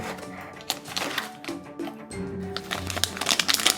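Play-Doh Finding Dory toolset packaging being unwrapped nearby, a busy stretch of crinkling plastic and cardboard with scattered cracks, crunches and small thunks, fairly steady throughout with no talking.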